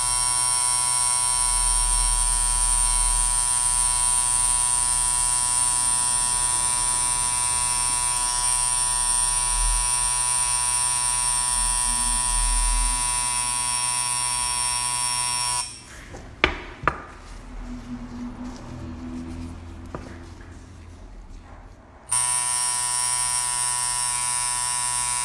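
A tattoo machine buzzing during line-work practice makes a steady, loud electric whine that cuts out for several seconds partway through, leaving a few faint taps and handling noises, then resumes.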